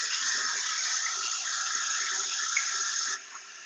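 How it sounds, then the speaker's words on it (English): Water running through a buried pipe, picked up by an AT-407N acoustic leak detector, gives a steady broadband hiss for about three seconds before dropping to a softer, quieter rush. "It means that the water is running and we can hear it."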